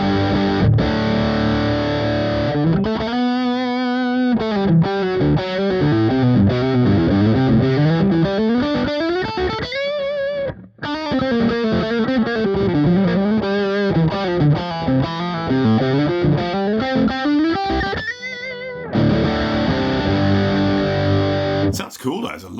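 Electric guitar through a T-Rex Mudhoney distortion pedal plays loud, sustained, heavily saturated melodic lines with bending phrases, with one brief pause partway through and no talking.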